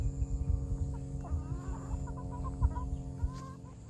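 Hens in a farm flock clucking in the morning, several soft overlapping clucks and murmurs close by over a low rumbling background.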